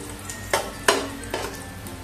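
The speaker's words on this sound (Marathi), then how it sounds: "आता हे मनुके घेतले त्यातले अर्धे घालूया आणि चांगलं हलवून घेऊया" Raisins are stirred into cornflakes chivda frying in oil, a soft sizzle underneath three scraping strokes of a spoon against the pan, close by with no voices.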